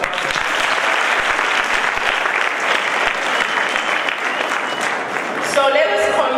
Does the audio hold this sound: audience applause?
yes